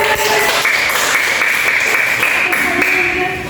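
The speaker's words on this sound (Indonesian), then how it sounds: "tepuk tangan dulu" Children clapping together in a classroom during a songket weaving lesson, steady loud clapping throughout with bright tones ringing over it.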